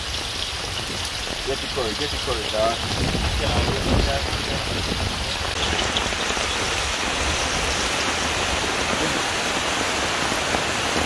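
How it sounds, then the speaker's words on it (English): Heavy rain pours down steadily and loudly over an outdoor cooking spot where cornmeal dumplings and curry chicken are being made, a dense continuous hiss under a voice talking in the first few seconds. "And I hear the rain come back down wicked."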